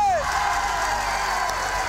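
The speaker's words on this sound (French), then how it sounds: "Applaudissements pour eux tous, s'il vous plaît!" Audience cheering and applauding for the building-trade workers and craftsmen at a televised house-rescue event, a loud continuous wash of whoops and clapping from a crowd close by.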